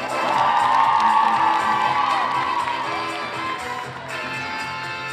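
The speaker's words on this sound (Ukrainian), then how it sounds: "Ваші оплески!" Audience in the hall of the Tysmenytsia district house of culture cheers and applauds loudly at the start of a KVN comedy show, a dense crowd roar with whoops that fades slightly toward the end.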